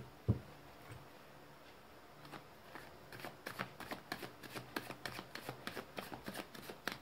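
Tarot cards handled and shuffled by hand: a soft thump, then from about three seconds a steady run of quick, crisp riffling flicks, close and fairly quiet.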